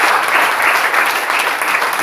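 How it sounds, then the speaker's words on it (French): Congregation at a French-speaking Christian worship service applauding, a loud, continuous burst of many hands clapping together at close range, with no talk over it. "Applaudissons pour notre Seigneur."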